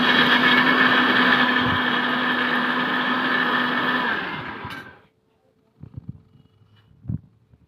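A kitchen mixer grinder whirs loudly while blending chutney for momos, running steadily for about four seconds before winding down and stopping, followed by a few light knocks.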